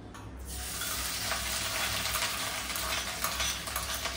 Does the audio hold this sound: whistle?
no